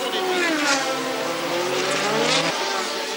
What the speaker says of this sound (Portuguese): Numa das disputas, o brasileiro dá uma fritada no pneu dianteiro.